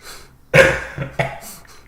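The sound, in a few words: wet cough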